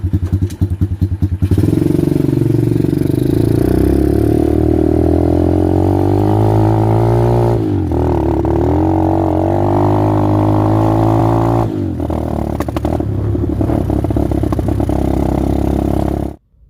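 An X-PRO dirt bike with a failing coil and carburetor cranks with an electric starter and catches, then runs with an uneven, loud, close engine note that dips and sputters twice before cutting out abruptly at the end.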